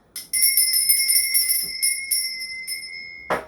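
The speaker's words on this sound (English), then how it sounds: "I'm going to be ringing this bell." A hand bell rings out, struck near the start and then repeatedly shaken into a bright, sustained metallic ringing that decays before a final thump.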